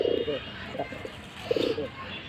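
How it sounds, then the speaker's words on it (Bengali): Pigeons, including a khaki or silver pigeon, give two close, low, rolling coos about a second and a half apart, each a short burst over faint background noise. "আর এটা একটা খাকি কবুতর, অনেকে সিলভার বলে।"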